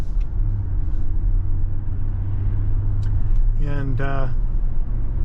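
A 2023 Nissan Pathfinder Platinum 4x4 with a 9-speed automatic rolls over a bumpy Pennsylvania road, a steady low cabin rumble throughout, with someone speaking briefly near the end.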